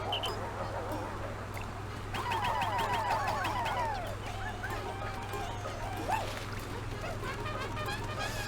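The Moss alarm in the video game Pikmin 4, a repeating warbling, honking in-game alert heard over a low steady background hum and game sounds, with music-like tones layered in.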